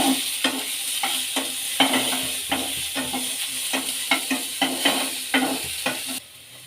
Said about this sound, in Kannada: ಈಗ ಇದಕ್ಕೆ ಈರುಳ್ಳಿ ಸೇರಿಸೋಣ. ಇದನ್ನು ಸಹ ಚೆನ್ನಾಗಿ ಫ್ರೈ ಮಾಡ್ಕೊಳ್ಳೋಣ.